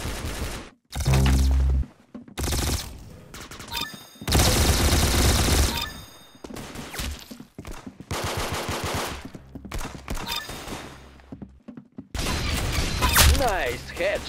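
Rapid bursts of video game gunfire, including machine-gun volleys and single shots, come in loud clusters separated by brief pauses, with voices talking between them.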